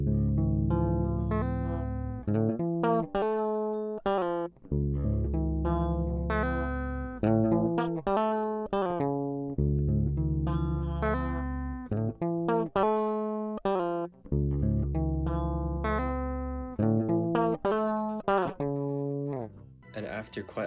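Dry six-string electric guitar with no effects, played as a steady run of strummed chords and sustained notes, loud and continuous with no talking.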